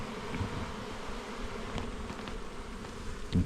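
Honey bees buzz steadily around an open backyard beehive, a close, continuous low drone with a few brief louder passes of individual bees near the end.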